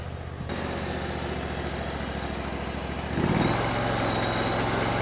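Engine of a Chinese skid steer running steadily at moderate revs with tracks on concrete, a continuous close mechanical drone that steps up in loudness partway through.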